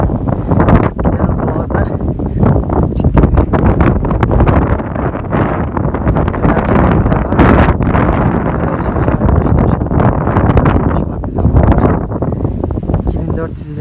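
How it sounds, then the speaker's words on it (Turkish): Steady, loud wind buffeting the microphone on a hilltop in Datça, Turkey, a continuous rough roar with gusty swells throughout. "Sağ taraftan gelen rüzgar"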